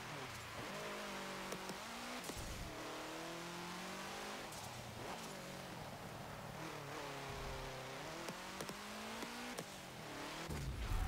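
A 1967 Volkswagen Type 3 1600 L in Forza Motorsport 7 revs hard through repeated upshifts, engine pitch climbing and dropping over and over as the car accelerates on track, with occasional tire noise.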